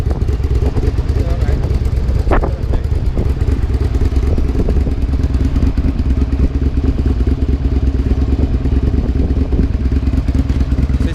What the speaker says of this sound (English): we just listen to the engine basically outside